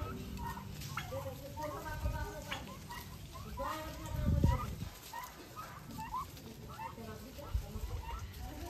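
Free-range turkeys grazing on grass give bursts of bubbling gobbles and calls, some overlapping, near and moderately loud, while a person talks over them throughout.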